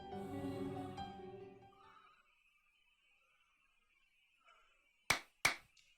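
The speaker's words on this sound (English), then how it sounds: "I clap my hands to stop her reading." Two sharp hand claps in a video game, close together, ring out near the end after a brief stretch of quiet that follows someone speaking.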